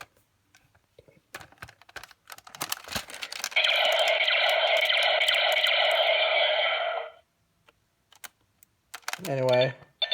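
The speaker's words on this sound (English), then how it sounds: "first you do get the basic firing sound" Electronic firing effect from a DX Gabutyra de Carnival dinosaur toy with gun barrels: a steady buzzing synthetic tone lasting a few seconds, preceded by clicking handling noise and followed by a short chirp, close and clear.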